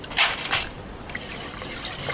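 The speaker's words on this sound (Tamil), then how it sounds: "தண்ணி ஊற்றி விட்டு கொண்டாயா சுத்தமாக தண்ணீர் கொட்டி இப்படி அரிச்சிக்கணும்" Water pours and splashes into a container of horse gram for rinsing, starting with a loud gush and settling into a steady, close trickle.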